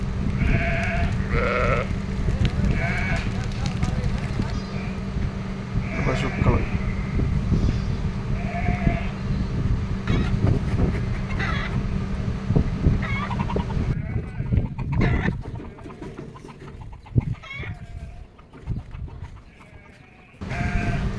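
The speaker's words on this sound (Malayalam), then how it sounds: "ഇതാണ് കറോപ്പ് ചമ്മരിയാട് ഇവിടെ പിന്നെ എല്ലാ കച്ചറിയും തിന്നും ആടാണ്" Black sheep in a desert farm pen near Al Ain, UAE, bleat repeatedly at close range over a steady outdoor rumble, while a person talks at times.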